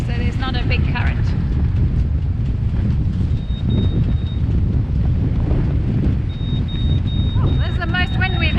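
Strong wind buffets the microphone at sea aboard a fishing boat near a reef during an offshore fishing competition, a steady loud roar throughout with brief voices at the start and end.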